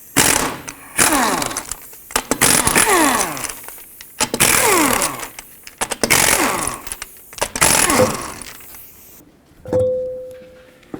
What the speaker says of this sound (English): I'm just going to use my 19mm socket, remove all 5 of my lug nuts, and then take the wheel off